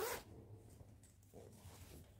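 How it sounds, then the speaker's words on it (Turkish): An 80 cm zipper being closed on a sewn vest gives a short loud rasp at the start, then faint scratchy slides and handling rustles follow quietly. "80 santimlik fermuar taktım. Şimdi fermuarımı kapatıyorum."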